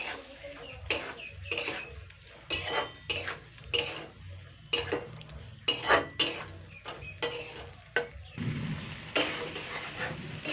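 Egg curry with potatoes sautéed in a pan, a spatula scraping the pan again and again in a brisk irregular rhythm, close and clear over a faint sizzle.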